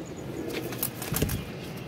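A pigeon from a breeding loft flaps off in a short flurry of brisk wingbeats, close and moderately loud against a soft background hiss.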